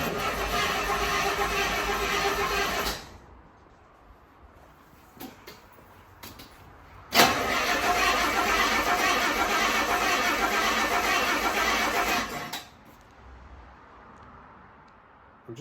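A classic car's engine turns over on its starter motor in two long, loud, steady bursts. The first lasts about three seconds. After a quiet gap with faint clicks, the second runs about five seconds and then cuts off abruptly.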